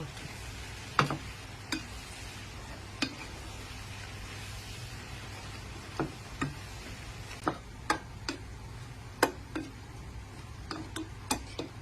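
A holy basil stir-fry with sugar and oyster sauce is tossed in a pan. Sharp, scattered spatula taps and scrapes ring out irregularly over a faint, steady sizzle, with no talking.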